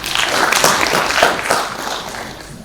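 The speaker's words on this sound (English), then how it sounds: "Let's clap for ourselves." An audience at a conference session on board strategy breaks into steady applause, a dense wash of many hands clapping close and loud for the whole stretch, gradually thinning near the end with no talking.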